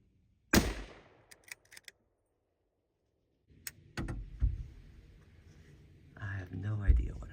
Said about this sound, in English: Okay, I'm gonna take a shot here.